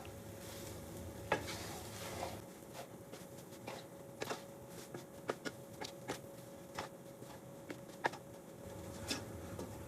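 Chicken rice being stirred and mixed in a pan with a spoon, a steady low sizzle under irregular sharp scraping ticks of the utensil against the pan, close and quiet, with no talking.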